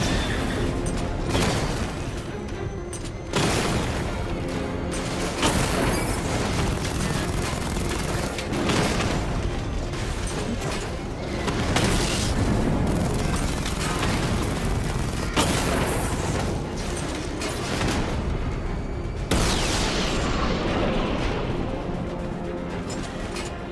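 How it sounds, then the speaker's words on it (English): Heavy booming cannon fire and explosions from the Batmobile's 60mm cannon in Batman Arkham Knight, dense and loud throughout with repeated blasts and clattering over a continuous roar. "Your 60mm cannon will penetrate these heavily armored units, but it'll take a few direct hits to destroy them."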